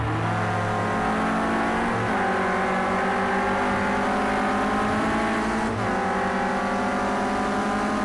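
Renault Clio Cup race car engine heard onboard at Sportsland Sugo, a loud, continuous harmonic drone that rises in pitch and drops briefly at gear changes near two and six seconds, with no talk over it.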